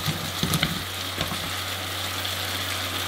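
Eggplant stir-fried quickly over medium-high heat in a pan with seasoned sauce, giving a steady close sizzle with a few sharper crackles and stirring scrapes near the start, over a low constant hum.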